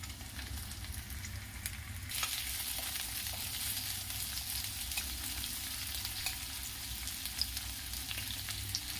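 Ginger, garlic and green chillies fry in a pan for a mixed vegetable curry, giving a soft, continuous sizzle with faint crackles and no talking.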